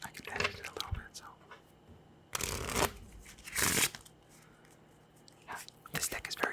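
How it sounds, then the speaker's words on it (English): Playing cards are bridge shuffled in a few crisp riffle bursts close by, separated by quiet stretches of soft whispered speech. "here we can do some shuffles, some bridge shuffles too"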